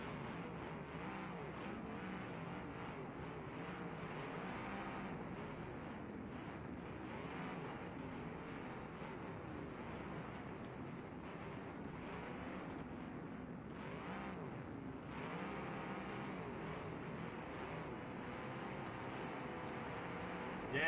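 Video game race car engines roaring at full throttle, a dense, steady, loud wash of engine noise held at the red line with no pause, dominating throughout.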